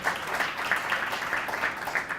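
Studio audience applause on a television talk show as a new on-air assistant is introduced, a steady, moderately loud patter of clapping that holds evenly for a couple of seconds with no voices over it.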